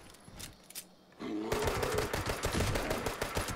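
A gun firing in the game Fallout 76: a quiet lead-in, then from about a second in a rapid burst of shots with a rattling, machine-like rhythm that runs to the end.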